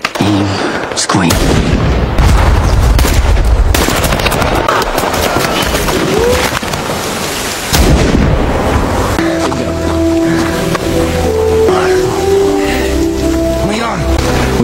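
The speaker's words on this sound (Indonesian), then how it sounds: "Di tengah sengitnya baku tembak, Sersan Baker yang terpojok meminta bantuan tim sniper untuk meratakan pasukan musuh." Gunfire and heavy explosions in a war-film firefight, dense and loud throughout, with booming blasts and rapid shots, a sharp break near the middle, and a sustained tonal rumble in the later part.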